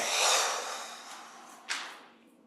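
Breathing during a palm-rubbing exercise: a long, soft, airy exhale followed by a brief sharper intake of breath, close and quiet, no speech.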